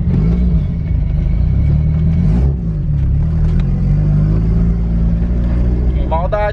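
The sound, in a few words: 1991 Nissan 240SX engine rumbling while driving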